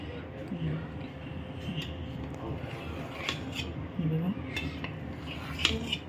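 Soft moong dal dhokla is cut into square pieces in a metal tray, giving scattered light clinks and scrapes of a utensil against the pan under a quiet background, with a voice speaking intermittently.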